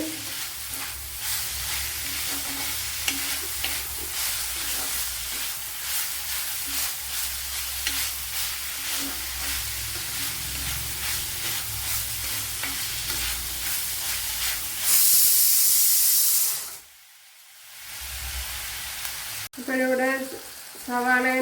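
Finely chopped tomato fries in a pan for chicken mappas with a continuous loud sizzle, punctuated by repeated stirring scrapes, then a brief burst of hiss followed by a quieter stretch.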